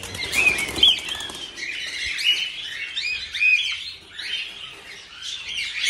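During a harvest, birds flap their wings in repeated fluttery bursts mixed with high chirps and squawks, fairly close and without talk.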